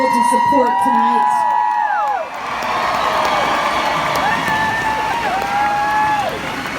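Cheering and whooping crowd at a Santa Barbara hometown benefit event, loud and sustained across the stretch, with shouts and voices mixed into the noise.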